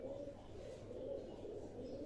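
Pigeons kept for sale in Baruipur coo softly and steadily in a low, continuous murmur close by, with no talk over it.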